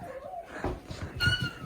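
A child imitates a cat's meow during role play: a short, faint, high wavering vocal cry followed by a stronger, rising mew, with light background noise.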